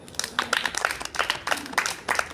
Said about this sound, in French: Bien, on l'applaudit.